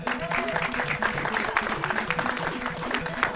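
An audience at a speedrun event for the game Blaster Master claps steadily and densely, while game music with a repeating low melody plays underneath.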